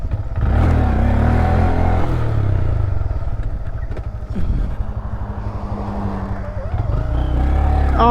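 A Honda Grom motorcycle rides through Springfield, Missouri, its small engine droning loud and close with shifting revs and rises, while a voice talks over the engine noise at times.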